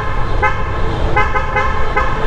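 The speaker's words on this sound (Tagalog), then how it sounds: "Bumubusina si sir." A car horn honks in repeated short toots under steady road and engine noise, sounded while driving through the provinces on a Manila to Baguio to Ilocos Norte road trip loop.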